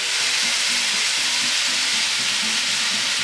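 Tomato, ginger and green onions stir-fry in a hot wok, giving a loud, dense, continuous sizzle with a rhythmic scraping of the spatula, close and with no voices.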